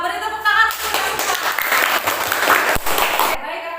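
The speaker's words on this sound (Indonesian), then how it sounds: "Beri tepuk tangan." Classroom students clapping together after a lesson on animal breathing, a dense burst of applause with a teacher's voice and children's voices mixed in before it cuts off.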